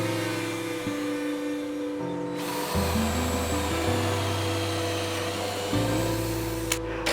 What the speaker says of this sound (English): make it a perfect circle with a router and circular cutting